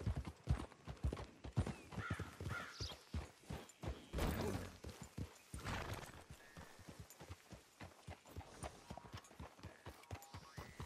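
Horse hooves clip-clop in Red Dead Redemption 2, a steady close rhythm of walking hoofbeats with a soft whinny partway through, slowing and fading toward the end.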